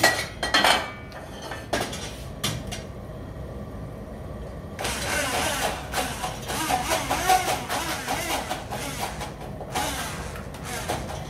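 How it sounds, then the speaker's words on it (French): A kitchen blender whirs loudly in bursts while making chutney, with clattering of dishes and utensils before the motor kicks in and runs steadily. "Et là, un petit coup de mixeur. Bon, ça va faire du bruit."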